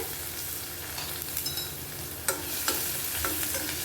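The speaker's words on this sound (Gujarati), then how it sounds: "આપણે લીમડો એડ કરશું, 4 થી 5 પાન છે। લસણ છે એડ કરશું, 1 ટીસ્પૂન લીધું છે।" Curry leaves and minced garlic hit hot oil with a dry wavering sizzle, punctuated by a few sharp spatters and crackles as they settle, steady and close.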